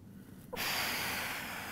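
A sharp, forceful inhale through the nose during a close grip bench press, starting abruptly midway and holding as a loud, breathy rush until the end, close and alone.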